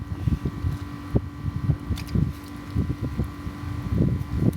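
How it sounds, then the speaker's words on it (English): Wind gusting outdoors on a catfishing trip along a river bank, low rumbling buffets pushing against the microphone in uneven surges, close and fairly loud, no talking. "There goes that wind again."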